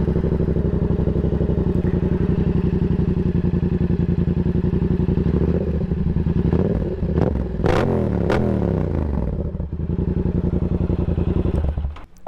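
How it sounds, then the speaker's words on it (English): A loud, close Yamaha R7 sport motorcycle idles with a rough, pulsing aftermarket open-exhaust rumble, then revs up and down in a few throttle blips before settling. "I absolutely love the way this bike sounds"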